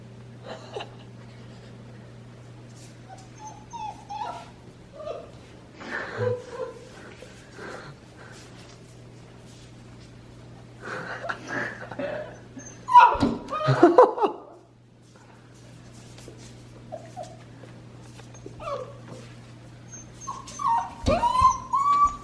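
A dog whimpers and yips at its own reflection in scattered bursts, with people chuckling and talking in the background.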